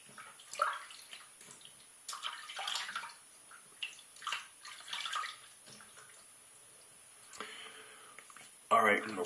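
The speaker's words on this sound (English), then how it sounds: "All right, I'm gonna rinse off." Tap water running in a bathroom sink as someone rinses off after a razor shave, intermittent splashing bursts at close range with speech throughout.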